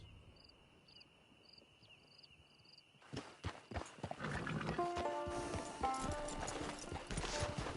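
Horse hooves clip-clop in the Red Dead Online video game, starting a few seconds in after a quiet stretch of chirping insects and continuing as a brisk, close rhythmic trot.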